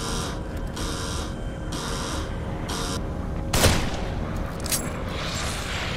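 Sniper rifle fire in The Evil Within, a single sharp crack standing out over a steady, dense game ambience.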